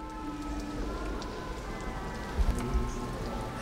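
Water rains down inside the rain gallery of Padirac cave, a soft steady patter of falling drops with a few louder splashes near the end, fairly faint and echoing.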